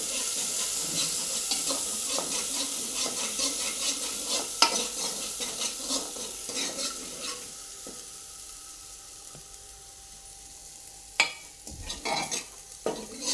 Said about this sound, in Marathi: 1 चमचावर वाटण टाकलंय मी तेलामध्ये, पण चांगलं परतून घेऊया 1 मिनिटभर।